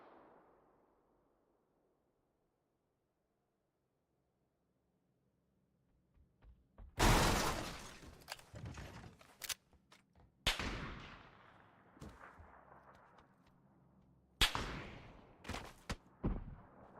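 Gunfire in the battle royale game PUBG, after several seconds of near silence, a sudden loud volley of shots followed by scattered bursts and single reports over about ten seconds, sharp and close.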